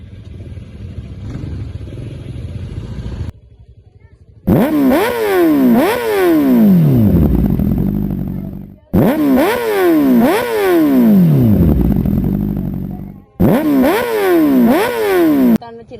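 A motorcycle engine revs hard in repeated loud bursts, each climbing and falling in pitch several times, separated by brief gaps, with an idling rumble and some talk at the start.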